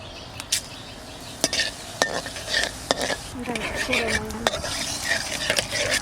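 Bay leaves and cumin seeds go into hot oil for a green jackfruit curry, giving a soft sizzle under sharp clinks of a metal spoon against the pan, with faint background noise and no talk.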